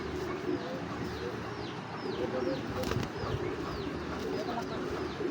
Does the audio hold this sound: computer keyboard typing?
no